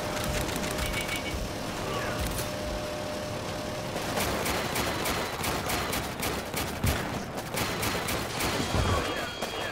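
Turret gunfire in the strategy game Warpips, with rapid repeated shots in steady bursts that grow denser partway through, mixed with other battlefield noise.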